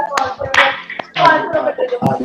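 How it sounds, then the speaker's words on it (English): A small group clapping hands together in an online session, a few uneven bursts of claps close to the microphone, with a voice faintly mixed in. "Just clap."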